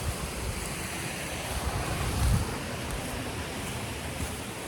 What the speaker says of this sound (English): I'm kind of overlooking this ravine with the cascades behind me there.